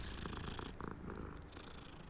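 A cat purring in the video game Hogwarts Legacy, a steady close rumbling purr running continuously under faint game ambience, with no talking.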